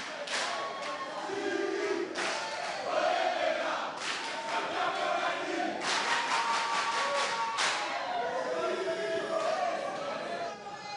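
A crowd at a dance show cheers and claps for the dancers, a dense, loud wash of applause with scattered shouts and thuds. A voice speaks over it at moments.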